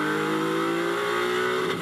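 A Honda GT race car engine revving on the circuit at Silverstone during a GT endurance qualifying session, a loud sustained high-pitched wail with steady rising harmonics, close and continuous.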